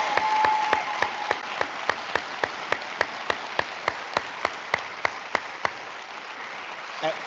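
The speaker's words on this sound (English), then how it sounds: "Round of applause." An audience at a high school senior awards ceremony applauds an honoree, with steady, close, fairly loud clapping that keeps a regular, almost rhythmic beat for about seven seconds before stopping.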